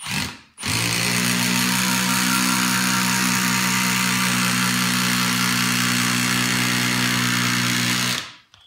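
A Milwaukee M18 Fuel Surge hydraulic driver running one long, continuous, loud whirring drive of about eight seconds, with a steady mechanical hum that starts abruptly and cuts off at the end, close to the microphone.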